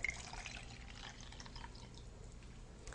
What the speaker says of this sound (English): you fill the bottle with the sterilized water